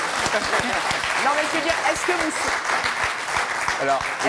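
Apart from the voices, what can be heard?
audience applause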